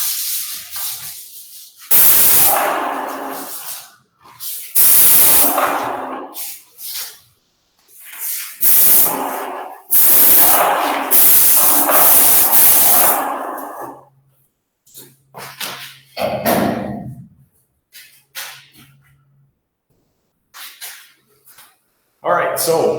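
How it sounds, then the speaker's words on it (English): A spray gun applies Aqua Enamel paint onto a door in loud, hissing bursts of several seconds each, separated by short pauses, followed by quieter intermittent sprays as a person talks. "I'm going to forgo the respirator here only because we got one door and this is just a demo, and I'll spray it"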